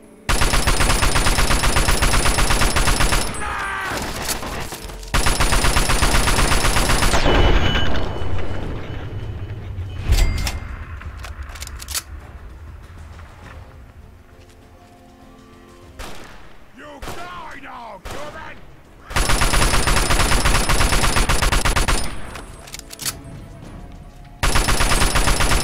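Gunfire in Fallout: Tale of Two Wastelands inside the Museum of Technology: long, loud bursts of rapid automatic fire, a scattering of single shots and clatter in a quieter middle stretch, then another sustained volley.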